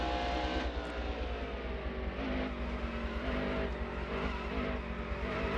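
A NASCAR race car engine in NASCAR Heat Evolution roars at Sonoma, a loud, sustained droning note with slight pitch wavering, heard alone with no talking.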